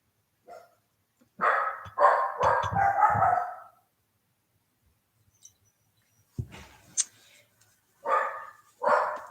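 Dogs bark in excited bursts at a door as someone comes and goes, a loud cluster of several barks followed by a pause and then more scattered barks, with a voice speaking briefly in the room.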